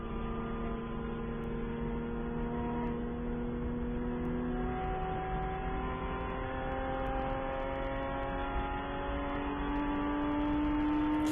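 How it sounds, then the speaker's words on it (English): Race car number 701 runs through the carousel corner at Road America during a WRL endurance race, its engine droning steadily and rising gradually in pitch as the throttle is fed back in, continuous and moderately distant, with no talking. "You can hear how gradually the 701 feeds the throttle back in through the carousel."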